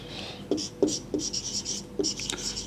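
Chalk or marker writing on a board during a maths lesson makes a series of short scratchy strokes in quick, uneven rhythm, close and moderately loud, with no talking.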